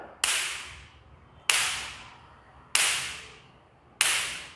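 A solar jhatka fence machine fires four sharp electric spark snaps at a steady interval of about one and a quarter seconds, each a crisp crack over a faint background hiss.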